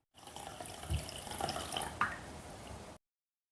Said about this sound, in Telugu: ఇప్పుడు నీళ్లు పోసి 1 గంట పాటు నానబెట్టుకుందాం.